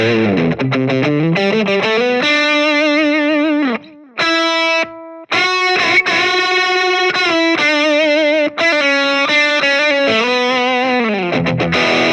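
Electric guitar played through a Hiwatt Leeds 25R amp with lead tones: sustained, distorted single-note lines and bends ring out loud and alone, with a couple of brief pauses between phrases.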